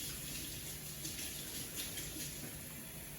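Tap water runs steadily into a sink while a vegetable is rinsed under it, a constant close hiss of flowing water with slight splashing changes throughout.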